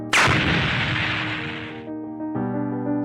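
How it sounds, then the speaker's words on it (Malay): One sudden loud explosion from a Brookhaven video game bursts out, then rumbles and fades over about two seconds before a steady tone takes over. "Kenapa hadiah ni meletup?"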